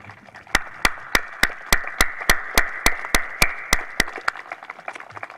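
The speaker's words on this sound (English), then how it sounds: "Please join me in one more round of applause as we thank our veterans" A small group applauds at a veterans plaque dedication ceremony, about twenty sharp, evenly spaced claps in a steady rhythm, close and crisp, trailing off at the end.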